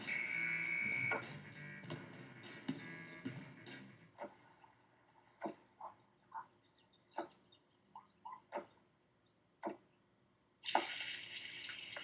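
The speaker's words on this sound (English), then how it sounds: "Clean kitchen surfaces, utensils, and hands with soapy water." Water runs from a kitchen tap at first, then gives way to scattered splashes, drips and clinks of washing at a sink, before a final gush of running water; fairly quiet and nearby, with no talking.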